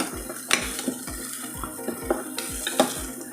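Onion and roasted dry coconut masala stirred in a pan for a Marathi drumstick curry, a repeated rhythmic scrape and knock of a spoon against the pan over a soft sizzle.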